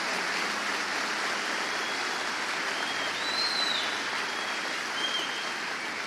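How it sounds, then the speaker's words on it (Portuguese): A church congregation applauds, a steady dense wash of clapping that holds evenly throughout, moderately distant and without speech. "Pode aplaudir esses irmãos mesmo, eles merecem."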